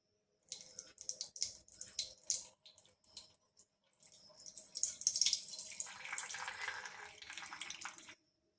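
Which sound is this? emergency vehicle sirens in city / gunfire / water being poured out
water being poured out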